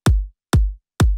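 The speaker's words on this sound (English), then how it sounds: "and then have a main kick" A heavily processed main kick for the bass in an electronic drop booms three times in steady succession, each a loud punchy thump whose pitch drops into a long deep tail, with nothing else playing.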